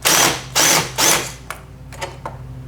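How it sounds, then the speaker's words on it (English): Screws on a Nissan Pathfinder battery hold-down being tightened, three loud whirring bursts from a power driver followed by a few softer clicks and ratcheting taps, close and without speech. "I'll hold down and tighten up the 4 screws."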